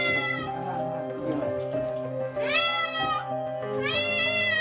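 A cat trapped down a well in Bondowoso meows repeatedly and insistently, two long rising cries standing out clearly against steady background noise and faint voices.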